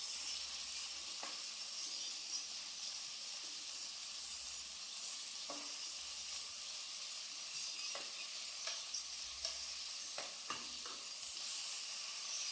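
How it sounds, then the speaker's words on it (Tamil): Sliced onions sizzle and fry steadily in oil in a pan while cooking mutton chukka, a continuous close hiss with occasional louder crackles and stirring clicks, no talking. "சின்ன வெங்காயம் லைட்டா வதங்கினதும் நம்ம எடுத்து வச்சிருக்கிற பெரிய வெங்காயத்தை ஸ்லைஸ் பண்ணி இதுல சேர்த்துக்கலாம்."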